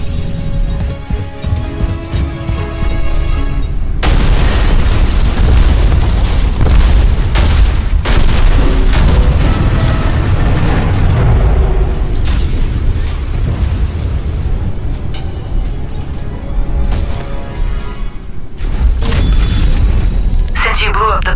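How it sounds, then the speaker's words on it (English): Explosion of a pumping station in the video game Alien Rage, a loud sustained booming roar with crashing debris and rumble filling the clip, with a fresh burst near the end. "Since you blew up the pumping station corridors"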